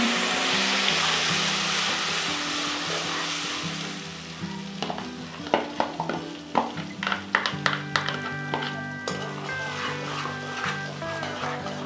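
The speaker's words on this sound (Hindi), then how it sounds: "अब इसमें डालेंगे ये मसाले जो हमने अभी बनाए थे सारे इसके अंदर ऐड करूँगी" Ground masala added to sizzling chicken gravy and stirred, a loud steady frying hiss with a string of spoon scrapes in the middle, a dog barking and faint voices in the background.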